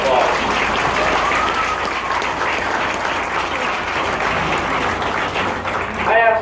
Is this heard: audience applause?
yes